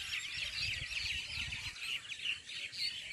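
Many birds chirp and call at dusk as they return to their nests in trees around a rooftop terrace, a dense, continuous chorus of overlapping tweets without pause.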